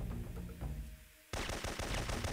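Automatic gunfire from the Syphon Filter 3 video game, set in a South African gold mine, breaking out as a loud, dense burst after a quieter stretch and continuing steadily to the end, with no talk over it.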